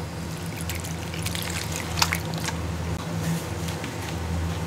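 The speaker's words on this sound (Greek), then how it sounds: "Ρίχνουμε και άλλο νεράκι." Ice-cold water trickles steadily into a basin of freshly made homemade butter, a soft continuous pour with faint splashes and no talking.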